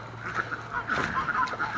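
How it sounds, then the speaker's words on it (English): Several ducks quack in quick succession nearby, a busy chatter of nasal calls over faint outdoor background. "All the ducks."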